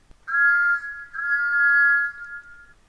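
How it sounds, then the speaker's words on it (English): A steam engine whistle blows long and hard, a loud, steady, clear tone held for over a second, with a brief break before a second long blast. "He blew his whistle long and hard as he arrived."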